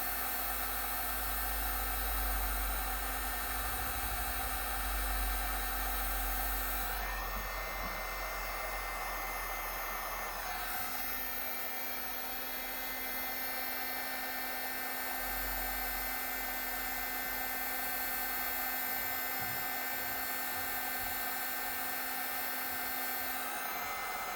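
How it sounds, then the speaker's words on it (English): Electric heat gun blowing hot air over resin, a steady loud whooshing hiss with a constant motor hum, briefly dropping off near the middle before starting up again, with no talking. "And heat gun this."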